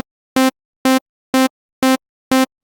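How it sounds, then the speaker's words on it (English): A plain four-on-the-floor techno house kick pattern from a Serum synthesizer patch, five evenly spaced dry thumps with silence between them and no other sound. "in this MIDI clip we've just got a 1, 2, 3, 4 beat classic techno house style kick pattern,"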